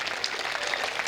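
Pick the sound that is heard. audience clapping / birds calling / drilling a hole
audience clapping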